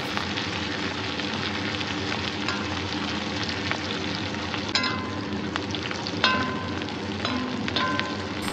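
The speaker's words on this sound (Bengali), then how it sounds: "পেঁয়াজ মিনিট খানেক ভেজে নেওয়ার পর" Onions sizzling in a pan over a low-to-medium flame, a steady, close frying crackle with occasional sharper pops and stirring scrapes, no voices.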